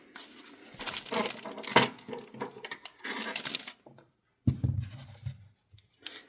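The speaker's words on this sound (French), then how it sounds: "Et je vais couper le fil." Scissors cutting crochet yarn while making a reindeer amigurumi, with close, soft snipping and rustling handling sounds in short bursts, a pause, then a few more light clicks.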